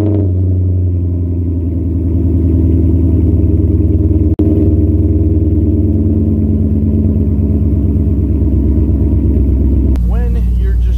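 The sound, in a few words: C5 Corvette engine starting up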